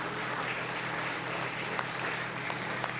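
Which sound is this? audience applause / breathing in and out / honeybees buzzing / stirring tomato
audience applause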